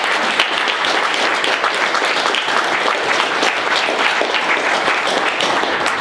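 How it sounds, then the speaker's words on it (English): A crowd at a boxing press conference gives the fighters and their coaches a round of applause, dense steady clapping that fills the room evenly with no pause. "give our fighters and their coaches a round of applause"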